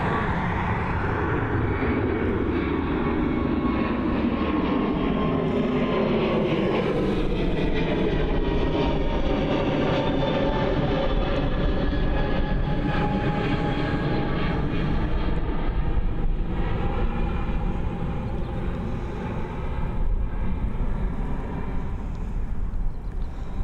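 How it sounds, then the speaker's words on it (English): A Lufthansa airliner departing Dublin Airport for Munich roars loudly and continuously, its jet engine rumble swelling and shifting in pitch as it climbs away, with no voices. "There is the Lufthansa heading over to Munich."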